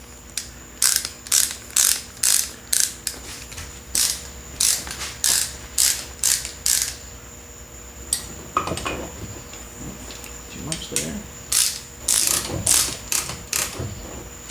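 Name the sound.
brake caliper piston compressor tool being cranked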